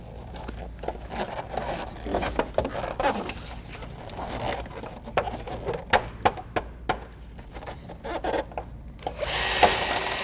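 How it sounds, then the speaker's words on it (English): Bursts of a power drill drilling into a metal roof at chimney flashing whir in short repeated spurts, with clicks and knocks between them, fairly close and loud. "You want to get a drill and drill that one there"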